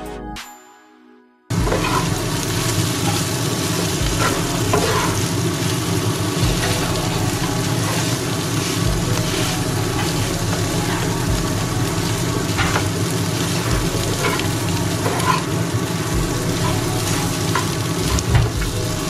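Coriander and boiled potatoes roasting in a hot pan for a samosa filling, a loud, steady sizzle with occasional stirring scrapes that starts abruptly after a short lead-in and runs without talk.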